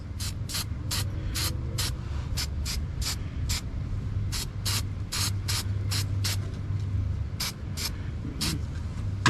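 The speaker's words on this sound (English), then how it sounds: "quick color, fast drying, all-purpose spray" A car part gets sprayed black from an aerosol can of quick-drying, all-purpose paint during an H2B engine swap in a Honda CRX: a rapid series of sharp hissing bursts over a steady low hum.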